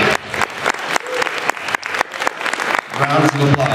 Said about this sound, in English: Rounds of applause.